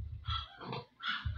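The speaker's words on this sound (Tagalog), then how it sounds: "Ito yung isang inahing baboy ko na 112 days na yung pinagbubuntis niya." A pregnant sow, 112 days into gestation, gives a few low, close grunts and snorts in short bursts, separated by brief pauses.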